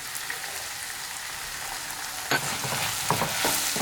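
Chicken manchurian sauce with tomato and chilli sauce hisses in a pan, a steady soft sizzle at first, then a spoon starts stirring and scraping through it in a few close strokes.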